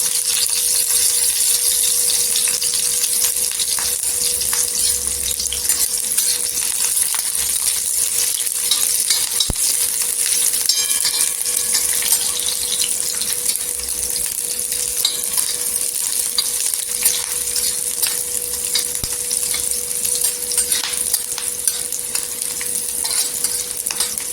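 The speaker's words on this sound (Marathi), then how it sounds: "इथे तेलामध्ये मिरची टाकून घ्यायची मिरची टाकल्यानंतर त्याची लसूण टाकायची छानाची तेलावर परतून घ्यायची" Green chillies and garlic frying in oil for a spicy okra thecha, a dense, loud, unbroken sizzle with a faint steady hum beneath, close by and with no one talking.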